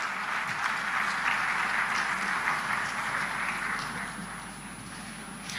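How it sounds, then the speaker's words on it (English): An audience applauds at an awards ceremony, a broad steady wash of clapping from a sizeable crowd that fades slightly toward the end, heard alone without talk. "please give a huge round of applause for all the Wonder Women of this"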